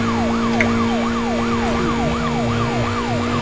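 A police car siren wails in the racing game Need for Speed Most Wanted, a loud, rapidly repeating rising-and-falling sweep over steady engine drone.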